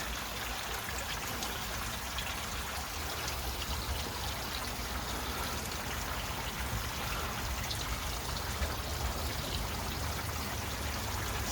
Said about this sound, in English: I'll try and carefully work my way up the waterfall a little bit